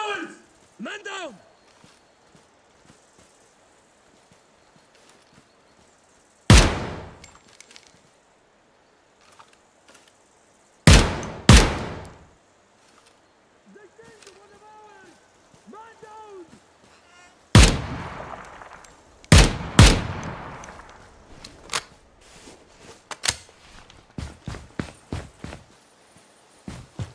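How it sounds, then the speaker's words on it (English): Gunfire in the tactical shooter game Ground Branch, set in a jungle: loud, sharp shots arrive in separate bursts of two or three, with quieter stretches and voices in between. "They're shooting at me!"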